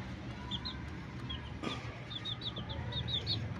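Peruvian chicken hen clucking in a farm yard, a series of short, soft clucks and chirps repeating over steady background noise, fairly close.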